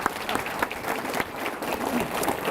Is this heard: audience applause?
yes